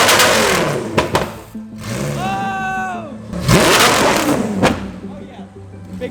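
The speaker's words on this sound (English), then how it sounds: "he's gonna rev it up, and as it's coming down, he's gonna hit that button, and that's gonna ignite for flames" An Audi R8 fitted with a flame kit revs hard in loud bursts, the pops and bangs of igniting flames mixed with the engine as it winds down, while people talk and shout nearby throughout.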